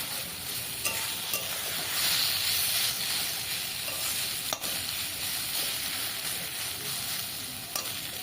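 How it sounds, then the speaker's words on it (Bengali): Snake gourd mash being stirred in a frying pan over lowered gas, a steady close sizzle with soft scraping strokes running throughout, no voices. "এবার শুধু গ্যাস কমিয়ে শুধু নাড়তে হবে, শুধু নাড়তে হবে"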